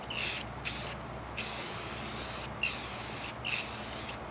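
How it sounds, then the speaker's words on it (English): A can of Rust-Oleum spray paint is sprayed in five hissing bursts of varying length, with short pauses between them. The hiss is fairly quiet and close, and no one speaks. "So easy to spray with Rust-Oleum."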